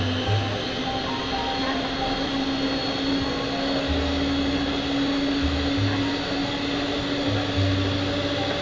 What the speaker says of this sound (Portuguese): E aí nós vamos bater essa gelatina na batedeira, na verdade, para que ela possa ficar com uma espuminha bem branquinha.